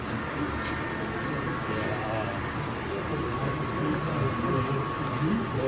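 A steady rumbling model Amtrak passenger train runs throughout, a continuous rolling drone with faint rail clatter and no clear pauses.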